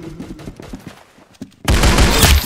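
Gunfire in the Roblox game Arsenal, with quieter shots and in-game sounds at first, then a loud, dense burst of close shooting over the final second.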